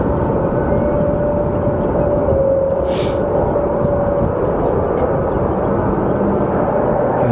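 A Boeing 757-200 sports charter jet without winglets rumbles at Sky Harbor Airport, a loud, steady low engine roar with a faint whine running through it.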